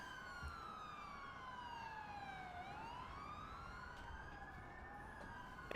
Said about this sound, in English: Damn, I'm hearing sirens like crazy.